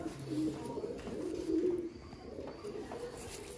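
Large breeder pigeons kept for sale coo in low, repeated throaty phrases, close and moderately loud, with no talk over them.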